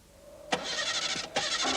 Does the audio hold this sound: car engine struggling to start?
yes